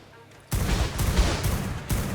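An automated turret in ARK opens up abruptly after a quiet moment, firing a loud, continuous stream of close, rapid shots.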